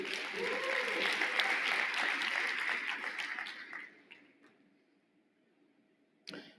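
An audience at a company keynote applauds, with dense clapping close in that holds for about four seconds and then thins out to scattered claps and near silence.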